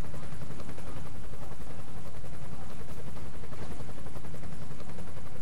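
Helicopter landing in the game Emergency 5: a steady, dense rotor roar at constant loudness throughout, close and unbroken, with no talk over it.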